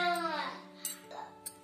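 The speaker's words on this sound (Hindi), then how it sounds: "पीछे से मेरी बेबी की भी आवाज आ रही है" A baby babbles in the background of a home kitchen while potato chips are being made, with a short stretch of high, wavering vocal sounds followed by quieter coos and a few faint clinks.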